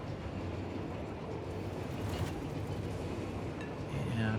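A freight train rolls along in the video game Satisfactory with a dense, steady rumble, rising slightly near the end where a faint mechanical whine comes in.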